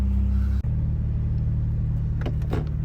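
A Toyota Supra MK5 idles close by with a deep, steady engine rumble, shifting slightly in tone partway through as it keeps running.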